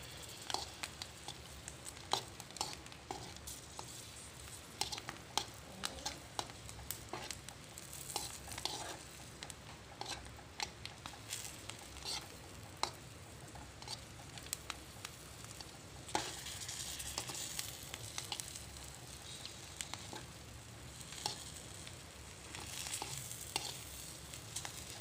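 Chili peppers fry in oil for sambal, a faint steady sizzle with scattered pops and occasional stirring scrapes, heard alone without talk.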